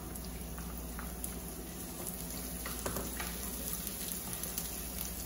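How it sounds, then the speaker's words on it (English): Onion sizzling as it goes into a pan of frying vermicelli, a steady close crackle and hiss running throughout with small spatter pops, no voices. "And now we add our onion."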